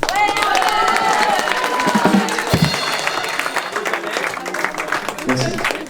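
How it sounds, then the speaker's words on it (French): A live audience applauds a musician named Arnaud at a comedy show, with loud sustained clapping and some cheering while voices talk over it. "Vous pouvez applaudir Arnaud."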